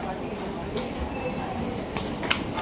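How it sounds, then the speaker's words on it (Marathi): A train pulls into Borivali station amid a steady wash of rumbling wheel and platform noise, with brief faint squeals and clanks rising through it. "आले आहे ट्रेन"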